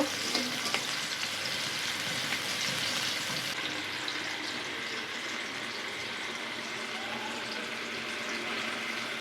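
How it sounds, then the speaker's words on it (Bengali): Sliced onions fry for birista in a pan of oil on a stove, giving a steady, dense sizzling hiss that runs throughout at moderate loudness with occasional faint stirring, no voices over it. "পাশের চুলায় পেঁয়াজ বেরেস্তা করতেছি"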